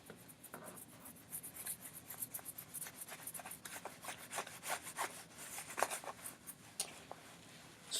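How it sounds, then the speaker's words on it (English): Quick, scratchy rubbing strokes of a board eraser wiping writing off a board, repeated in uneven bursts over several seconds, close and moderately loud with no talking. "So I'm going to do a quick erase"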